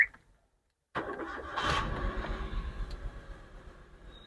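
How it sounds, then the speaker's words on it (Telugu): A Wagon R hatchback with CNG and petrol options, showing about 79,940 on the odometer, cranks briefly after a moment of silence, then settles into a smooth, quiet idle heard close up. "చాలా స్మూత్ ఉంది ఇంజిన్ మాత్రం."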